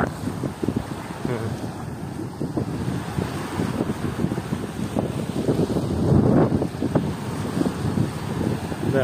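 Waves rolling in on Batu Ferringhi beach on Penang with the Andaman Sea at high tide, heard as a continuous wash of surf and gusty wind buffeting the microphone, with no voices.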